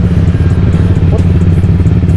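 Loud, close Umajam Adventourally 700 scooter engine idling with a steady, even throb and some clatter, with shouting voices in the background at an outdoor gathering.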